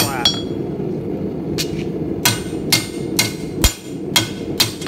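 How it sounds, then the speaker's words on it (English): A hammer strikes metal being forged at an angle for an arm-and-hammer bottle opener, several sharp ringing blows at an uneven pace, close and loud over a low background hum. "This is simply done by forging on an angle into the wrist, pushing all that metal back down flat."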